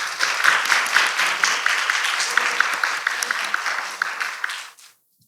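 Applause for a minister at the closing ceremony of a youth climate conference: a crowd claps steadily and loudly for several seconds before the sound cuts off abruptly into silence.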